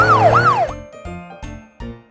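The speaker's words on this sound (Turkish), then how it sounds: "Bakın çocuklar, o bir polis arabası." A cartoon police car's siren wails in a rising and falling sweep, loud and close, then gives way to a few short separate tonal honks or chimes.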